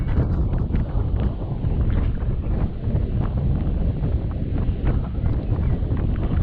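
Strong wind buffeting an outdoor microphone on a windy hilltop along the South Downs Way, a loud continuous low roar and rumble with no let-up.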